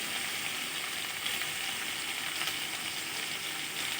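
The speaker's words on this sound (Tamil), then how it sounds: "டொமேட்டோ போட்டு நல்லா வதக்கலாம்." Tomatoes sautéing in a hot pan during preparation of a Tamil-style crab fry, a steady close sizzle and hiss throughout with faint stirring, no talking.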